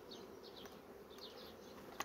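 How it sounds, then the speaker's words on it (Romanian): Honeybees feeding on honey set out on a hive frame buzz softly nearby, with a faint continuous hum and several brief passing drones. "această ramă care i-am pus-o la dispoziția albinei, deja este plină de albinuțe"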